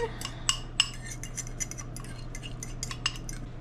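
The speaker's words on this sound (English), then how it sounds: "just get this all mixed up" A spoon scrapes and clinks in a mixing bowl as salt and other ingredients are stirred together: faint, irregular taps and scrapes over a steady low hum, with no voices.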